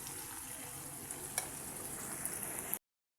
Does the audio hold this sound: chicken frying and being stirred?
yes